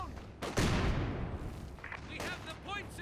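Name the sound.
flak half-track firing in the video game Company of Heroes 2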